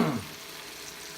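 Garlic sizzles in a hot pan with a pork chop mixture, a burst of frying crackle at the start settling into a steady soft hiss, close and fairly quiet with no voices.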